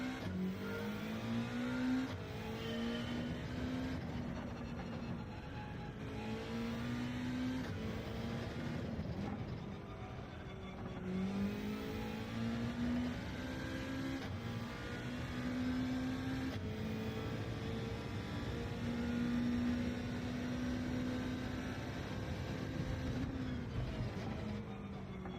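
Mitsubishi Lancer engine in the racing game Gran Turismo 7, revving loudly and continuously with repeated rising and falling pitch sweeps as gears change, no talk over it.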